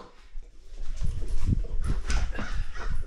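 A golden retriever whimpers and whines close to the microphone in a run of short, uneven cries, with some snuffling and rustling, and no talking.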